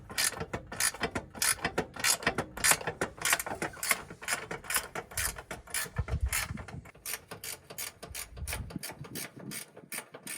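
A ratchet wrench clicks quickly and steadily while working on a Toyota Celica GTS during a radiator replacement, with close, crisp clicking throughout and a few mechanical clunks.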